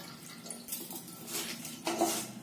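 Water is poured over poha (flattened rice) flakes in a colander set over a vessel, giving a soft, close, steady splashing and trickling that swells briefly toward the end.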